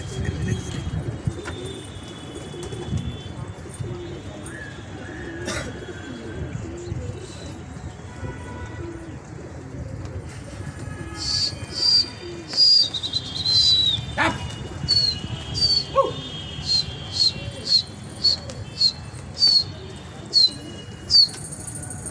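Flock of pigeons released and flying, with wing flaps and soft cooing mixed with a crowd's murmur and a dog barking nearby; a series of regular sharp calls or whistles repeats toward the end.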